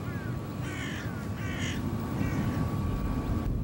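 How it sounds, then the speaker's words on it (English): Crows cawing in the fields around a Russian military airfield, several harsh caws in a loose series over steady low outdoor rumble, moderately distant. "Birds, lethal to an engine if sucked inside, gather freely in the fields around the tarmac."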